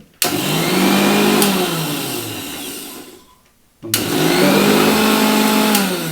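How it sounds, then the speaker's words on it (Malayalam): A kitchen mixer grinder crushes coconut, chilli, shallots and salt for a chutney. It whirs loudly in two bursts, winding down to a brief stop between them, with no talking. "തേങ്ങയും മുളക് ചതച്ചതും അതുപോലെ കൊച്ചുള്ളി ഉപ്പും കൂടെ ചേർത്ത് മിക്സിയിലിട്ടൊന്ന് ചതച്ചെടുക്കാം"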